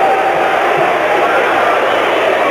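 A large wrestling crowd roars and cheers for the wrestler Jake the Snake at a 1980s event, a loud, steady wall of cheering that holds for the whole stretch with a commentator's voice running underneath.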